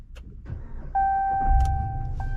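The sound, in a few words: 2022 Ram 1500 Limited truck engine starting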